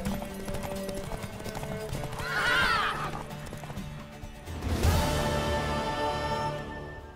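A horse in The Witcher 3 race gallops with steady clip-clop hoofbeats, then gives a loud whinny partway through, all over a busy game soundtrack.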